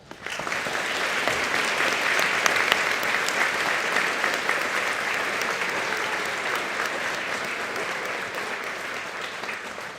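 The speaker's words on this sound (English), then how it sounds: "Please join me in congratulating these members with a round of applause" A high school audience applauds newly inducted National Honor Society members, sustained dense clapping that swells quickly and stays steady for about ten seconds, slightly easing near the end.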